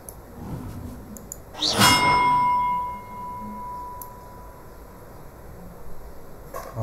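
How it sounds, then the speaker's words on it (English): A single bell struck in Hogwarts Legacy, a bright clanging ding that rings out and decays slowly over several seconds above a quiet ambient background. "Oh, this is the bell."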